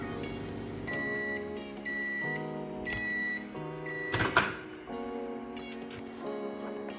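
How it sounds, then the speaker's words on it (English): A microwave heating broccoli hums through a series of steady electronic tones, with a brief louder clatter partway through and no voices. "I'm just waiting on my microwave to ding"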